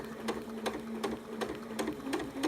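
A sewing machine stitches fabric while a quilt sampler block is being sewn. It runs in a steady hum broken by about seven evenly spaced rhythmic bursts, close and alone with no talk.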